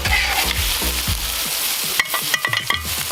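Shrimp, minced garlic and butter sizzle loudly on a 22-inch Blackstone griddle, a dense, close hiss broken near the end by several sharp scrapes and taps of a spatula on the steel.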